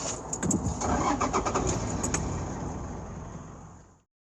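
Camper van engine cranking and catching, then running steadily as the van pulls away, with a few sharp clicks and knocks early on before the engine noise fades out.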